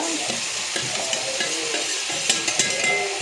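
Potatoes and tomatoes sizzle steadily in a hot pan for a tomato and field bean gravy, a continuous bright frying hiss with occasional stirring clinks and scrapes, close and fairly loud, with no talking.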